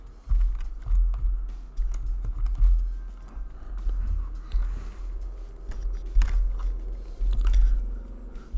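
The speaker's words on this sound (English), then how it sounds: "Before the text you want to search, you're gonna type" Typing on a computer keyboard, a run of irregular close clicks and taps over a low rumbling background, with no speech.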